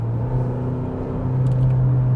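Engine of a 2025 Genesis G70 revving and accelerating in third gear, a steady loud low drone rising slightly in pitch, heard from inside the car without talk.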